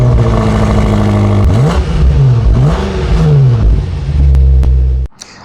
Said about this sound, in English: we're gonna take a listen to what that exhaust sounds like right now